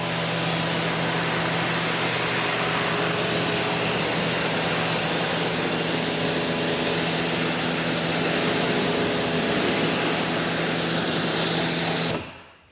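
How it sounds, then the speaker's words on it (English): Pressure washer running steadily while rinsing a car during a touchless pre-wash, a loud continuous hiss and motor drone close by for about twelve seconds before cutting off abruptly, with no talking. "We'll get the pressure washer set up back here"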